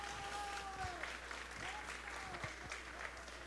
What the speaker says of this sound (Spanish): aplausos para Livia